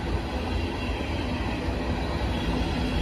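SD45-2 locomotive train passing close by, a loud continuous rumble of rolling wagons with wheel noise and no talk.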